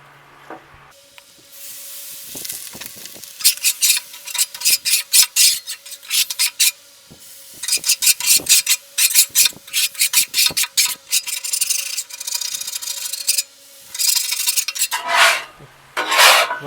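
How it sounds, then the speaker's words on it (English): A metal scraper scrapes a flat-top griddle clean after cooking smash burgers and fried potatoes, making repeated harsh rasping strokes in bursts close up over a faint steady hum. "go ahead and scrape this and"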